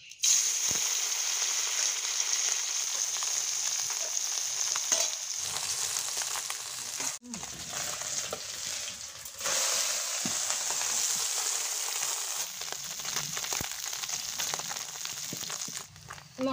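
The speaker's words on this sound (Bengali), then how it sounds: "মাছ আমার ভাজা হয়ে গেছে একেবারে লাল লাল করে" Small puti fish frying in hot oil in a wok make a loud, close, bright sizzle with bursts of spattering and crackle, dipping briefly as the pieces are moved, with no talk.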